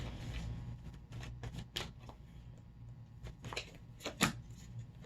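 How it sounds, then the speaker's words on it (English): Tarot cards shuffled and pulled from the deck during a reading, soft close riffling and flicking with scattered sharper card snaps and taps over a quiet room. "So let me pull a few tarot cards just to clarify that."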